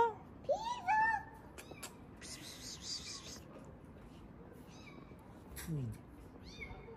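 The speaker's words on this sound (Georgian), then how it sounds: "სად არის კნუტი?" A kitten meows several times, short high calls in bursts near and moderately loud, alternating with indoor household noise and brief voices.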